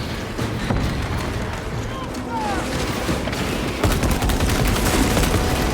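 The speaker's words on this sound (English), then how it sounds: "Frag grenade out." Frag grenade blast and sustained gunfire in Warhammer 40k Space Marine 2, dense continuous combat noise with rapid shots and a heavier burst near the end, loud and close throughout.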